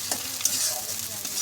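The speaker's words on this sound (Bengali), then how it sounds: "পেঁয়াজটাকে দিয়ে কিন্তু খুব ভালো করে একটু ভাজতে হবে, একটু লালচে কালার মতন আসা পর্যন্ত ভাজতে হবে," Onion paste fries in a pan for a pointed gourd and prawn curry, a close sizzle under quick spatula scrapes and stirs, with no voices.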